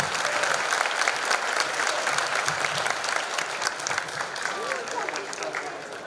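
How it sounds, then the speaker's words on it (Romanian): Applause from a crowd at a football match at Putna, a dense, steady clapping wash filling the whole stretch, loud and continuous with no pauses. "Aplauze!"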